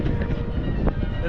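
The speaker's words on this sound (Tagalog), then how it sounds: "Tapos ang lakas pa ng hangin." Strong cold wind rushes and buffets against the microphone at Tokyo Disneyland, a loud, constant roar with a voice talking over it.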